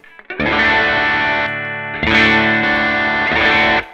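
An electric guitar through an overdrive pedal, overdrive turned down, rings out gritty overdriven chords, two sustained strums with a brief break between, loud and close with no voices.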